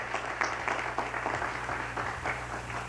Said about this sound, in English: these people deserve a nice round of applause for their work